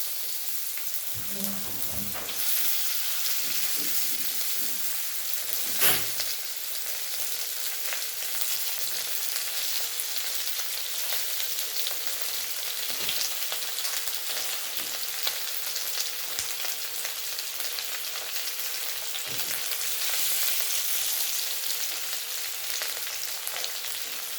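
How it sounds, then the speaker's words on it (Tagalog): Milkfish (bangus) fries in a pan with a continuous soft hiss of oil, a few faint clinks and knocks early on, and no voices. "Ilagay na natin yung piniprito natin isda na bangus"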